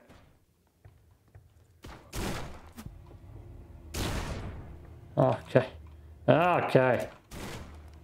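Gunfire bursts in the shooter video game Forgive Me Father 2 come in several loud, close volleys between quieter gaps, mixed with game sounds, and a voice briefly speaks.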